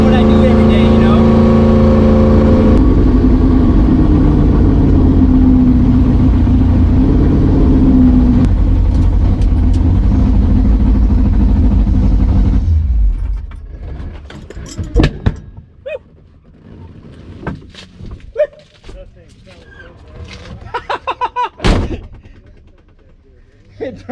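A 1955 Chevrolet Bel Air engine runs loud and steady for about twelve seconds, rising at times, then drops away. After that come scattered knocks and clunks with some background voices.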